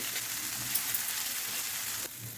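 Masala paste sizzles steadily on a tawa over low gas while cooking for tawa anda masala, a continuous soft frying hiss with a couple of faint clicks and a slight drop near the end.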